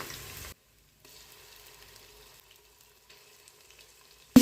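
Ginger and garlic frying in hot oil over softened onions, a soft, steady sizzle that is faint and low after a brief louder burst at the start.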